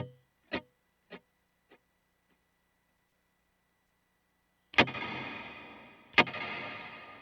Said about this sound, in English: So here's the delay.